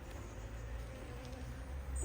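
Bees buzzing at an open beehive during an inspection, a faint, steady low drone with no voices, continuous for the whole stretch.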